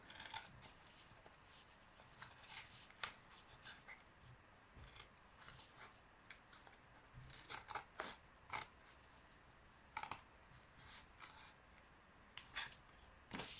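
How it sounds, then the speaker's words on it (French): Scissors cut a piece of paper fully along a marked line in a quiet room, giving a series of short, soft crisp snips and rustles at an irregular pace. "on va aller couper entièrement ce morceau en suivant la ligne"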